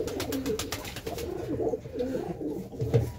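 High-flyer pigeons in a loft coo steadily in soft, low, rolling calls, several birds overlapping close by against a constant background hum.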